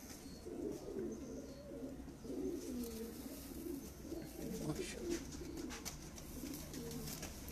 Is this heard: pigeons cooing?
yes